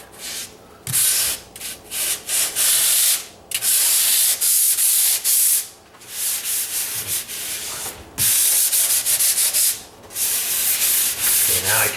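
A drywall patch is sanded by hand with steady back-and-forth scratchy strokes in repeated bursts separated by short pauses, close and loud, with no talking.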